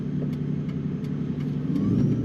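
A tuned 2001 Ford Mustang Sean Hyland Motorsports Edition with a 6-speed manual cruises on the highway, its engine a steady, loud, close rumble with road noise throughout.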